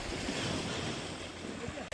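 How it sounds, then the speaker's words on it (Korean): Ocean waves wash over a rocky island shore at low tide, a steady loud rush of surf and spray under gusty wind noise, continuous and close throughout. "파도 소리를 들으면서"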